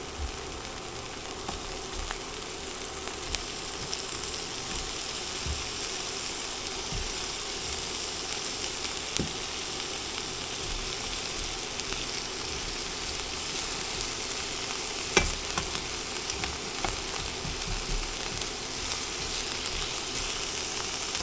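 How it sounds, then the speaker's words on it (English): Curry goat bubbles and simmers in a pot, a steady close sizzling hiss with scattered small pops and crackles throughout, no talking. "I'm going to go ahead and let this simmer up."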